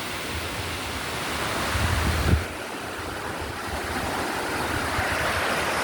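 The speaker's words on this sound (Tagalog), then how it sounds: "Ito yung pangalawang falls." A waterfall roars as a broad, steady rush of water with wind buffeting the microphone, loud and continuous, with a short gusty swell near the middle.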